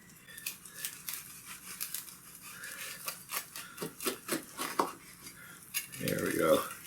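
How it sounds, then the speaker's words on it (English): A knife saws straight through a tuna melt sandwich with a caper filling, giving a run of close, crisp crunching scrapes and clinks against a plate, ending in a louder press through the bread. "I'm going to go for a straight cut today."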